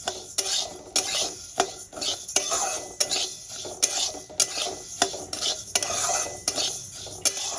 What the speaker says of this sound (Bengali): এবার মুগ ডালটাকেও আমি ভেজে নেব